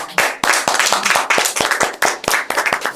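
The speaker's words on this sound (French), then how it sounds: "Applaudissements, s'il vous plaît." An audience applauds with close, loud, crisp handclaps in an uneven, busy rhythm, a small group clapping for about three seconds with no talk over it.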